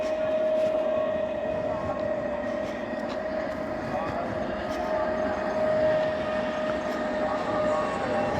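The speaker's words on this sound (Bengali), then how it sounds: "দেখুন ট্রেন যাচ্ছে" A train passing by outdoors, a sustained steady rumble of rolling wagons with a constant tonal whine running through it, heard at moderate distance for the whole stretch.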